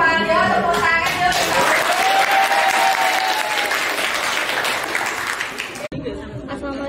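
A class of students claps together in a school classroom. The applause is loud and steady, with chatter and a little laughter mixed in, and it cuts off abruptly near the end before a voice speaks.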